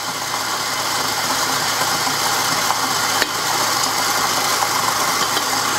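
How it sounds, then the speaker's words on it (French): A stand mixer whisks egg whites at medium speed as sugar is added, giving a continuous loud whirring motor with a rattling edge, close and unbroken apart from a brief knock. "Dans le robot avec le fouet sur vitesse moyenne pour commencer."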